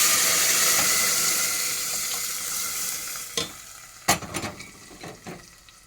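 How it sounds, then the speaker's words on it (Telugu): Tempering sizzling and frying in oil until golden, a steady hiss that thins out, then clattering stirs and thuds as ground lentils are added, close and fairly loud. "ఇలాగ దోరగా వేగనిచ్చి ముందుగా రుబ్బు పెట్టుకున్న పప్పు వేసుకుంటాం"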